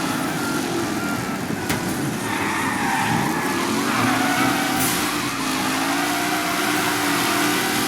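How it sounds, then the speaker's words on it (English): Race cars driven aggressively in the Mafia Definitive Edition video game, with engines revving and tires skidding in a loud, continuous roar and shifting engine pitch throughout. "Aggressive driving from Angelo."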